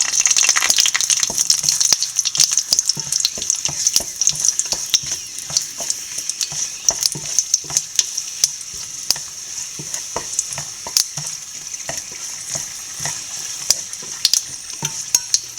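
Dried red chilies and mustard seeds tempering in hot oil for beetroot pachadi: a loud, continuous sizzle dense with rapid crackles and pops, close up, sustained throughout with no voices.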